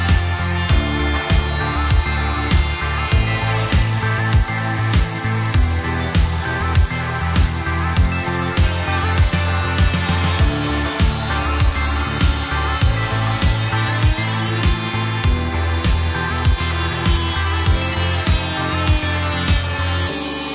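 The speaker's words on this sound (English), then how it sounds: "I'm going to be cutting some domino strips in them to see how well this keeps up with pressure" An oscillating multi-tool fitted with a wide blade cuts into CLS timber, buzzing loudly and continuously with a rapid rhythmic rasp. The cuts are punctuated by regular pulses as the blade bites and is pressed into the wood, with no voices.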